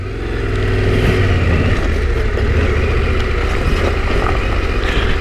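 A Yamaha Tenere 700 adventure motorcycle climbs a green-lane trail under constant, clutch-controlled throttle, its engine a close, steady, loud drone that rises briefly at the start and then holds even throughout.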